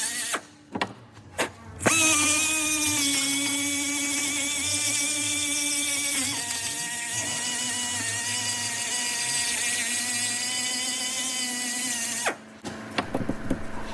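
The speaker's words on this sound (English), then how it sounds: "I am using a carbide burr, making sure not to remove too much material, focusing on just the corrosion until I hit clean metal" A carbide burr on a power tool grinds corrosion off an aluminum wheel-bearing knuckle of a 2024 Subaru Crosstrek, a loud, steady high-pitched whine for about ten seconds, with brief starts and stops at the beginning and end.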